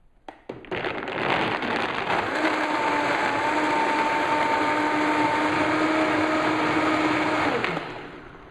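A Vitamix blender whirs loudly and steadily as it blends a thick coconut cream mixture, starting abruptly, holding a high motor whine for about seven seconds, then winding down.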